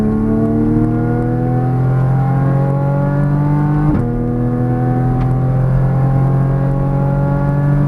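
A Porsche Cayman GTS accelerates hard with its engine note climbing steadily, loud and close from inside the car, with a brief gear-change dip midway before the pitch rises again.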